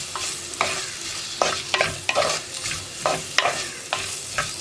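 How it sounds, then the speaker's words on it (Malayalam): Onion, ginger and garlic sautéing in a little ghee: a steady close sizzle broken by repeated scraping stirs of a spatula against the pan, no voices. "ഇപ്പോൾ നമ്മുടെ സവോളയും ഇഞ്ചിയും വെളുത്തുള്ളിയും ഒക്കെ നന്നായിട്ടൊന്ന് വഴന്ന് വരട്ടെ"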